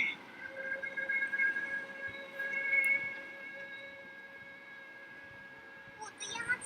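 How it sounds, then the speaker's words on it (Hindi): A siren in a Hindi-dubbed Doraemon cartoon episode gives steady, held wailing tones at moderate volume, with some talking mixed in. "ये सायरन किस लिए था?"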